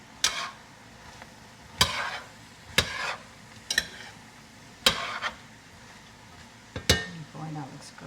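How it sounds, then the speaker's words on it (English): Corn chowder with bay leaves and fresh corn stirred in a pot, a spoon scraping and knocking against the metal in about half a dozen separate strokes over a quiet background. "Give this all a quick stir."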